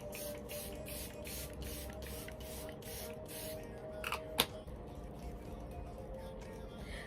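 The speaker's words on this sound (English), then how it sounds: "I'm going to go ahead with my Charlotte Tilbury setting spray, and I'm going to spray my face." Charlotte Tilbury setting spray is misted onto a face in a run of short, rhythmic hissing pumps, fairly close and clear, followed by a couple of small handling clicks.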